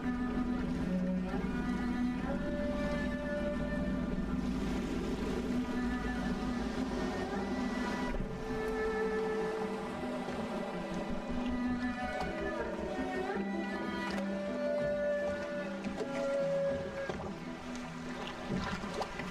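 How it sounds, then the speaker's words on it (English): A steady low engine drone from a boat in the video game Dishonored runs throughout, with water and wind noise layered over it and a few brief tones above. "I should concentrate on piloting this boat."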